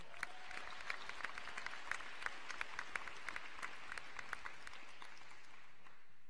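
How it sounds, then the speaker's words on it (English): Sparse, faint applause at a senior awards night for a scholarship award, a small audience clapping in scattered individual claps that thin out and fade near the end. "give them a round of applause for the R. Lee Ermey Award for Suburban Achievers"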